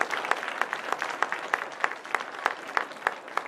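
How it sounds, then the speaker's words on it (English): An audience gives a round of applause at a community board update, steady clapping from many hands carrying on throughout, fairly close and with no talking over it. "Give them a big round of applause."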